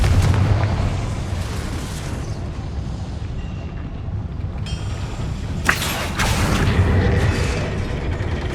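Confringo fire spell blast in the video game Hogwarts Legacy, a loud dense rumbling explosion with a sharp burst near the middle over steady game ambience.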